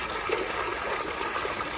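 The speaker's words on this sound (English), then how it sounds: "But here is another flush." A kindergarten-sized toilet with an overfilled tank flushes, giving a steady rushing and swirling of water at close range through the whole short moment, with no voices.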